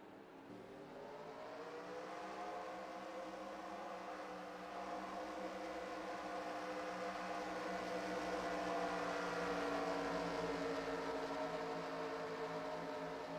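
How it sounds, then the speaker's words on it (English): A field of race car engines in a stock car racing video game at Las Vegas fire up and build into a sustained, layered droning roar with rising revs, steady and loud throughout, with no talking. "Drivers, start your engines."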